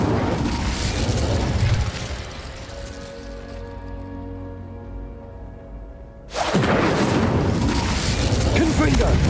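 Casting the Incendio fire spell in Hogwarts Legacy gives loud, roaring bursts of flame. One blaze fades into a quieter humming stretch before a second full-strength burst erupts.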